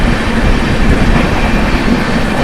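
Superfast express train running at about 130 km/h while overtaking the Malwa Superfast Express, a steady loud rumble of wheels and carriages sustained throughout with no talk.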